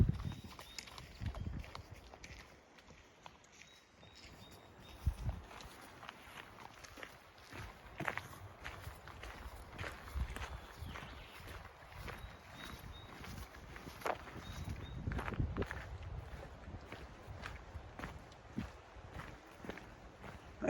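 Horse hooves clop along at a steady walking pace on the Great Glen Way near Drumnadrochit, Scotland, faint and uneven, with light rustling and ambient outdoor noise around them.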